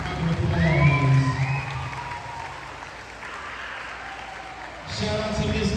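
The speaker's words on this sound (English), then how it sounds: "Israel, a big round of applause." A crowd at a school pep rally claps and cheers, dense applause that swells early, eases off, then picks up again near the end.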